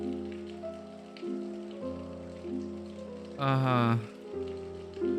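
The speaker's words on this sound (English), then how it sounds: "How long has it been raining?" Rain falls in the horror video game If on a Winter's Night, Four Travelers, a steady soft patter under sustained music tones, with a brief louder swell partway through and no talking.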